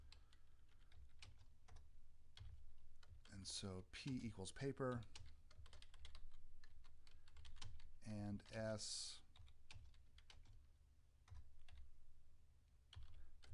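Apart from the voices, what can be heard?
typing on a computer keyboard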